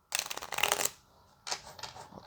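Tarot cards being shuffled by hand in two bursts, a dense crisp riffling flutter lasting under a second, a short pause, then a second shorter shuffle, close and clear with no talking.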